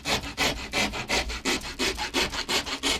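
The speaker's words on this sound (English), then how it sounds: "I'm using a rat tail rasp here, as you can see." Rat tail rasp filing a groove into a wooden longbow, a rhythmic series of about a dozen scratchy rasping strokes at an even pace, close and fairly loud with no talking.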